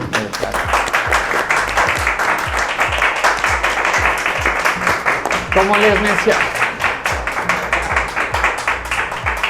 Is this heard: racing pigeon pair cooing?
no